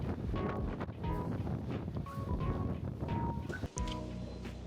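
Strong wind gusting across the microphone on a Valencia street in the off season, a steady rough rumble with faint background sounds and no clear talk.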